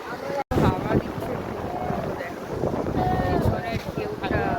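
Strong wind sweeping a crowded beach at Old Digha, constant loud buffeting across the microphone with surf washing behind, and people talking throughout.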